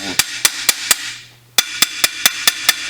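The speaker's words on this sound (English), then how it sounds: "we'll really concentrate on tapping flat with the face of that hammer" A hammer face taps flat on a dented aircraft magneto tube during dent repair, striking in a steady rhythm of loud, close, sharp metallic hits with a short pause midway, no talking.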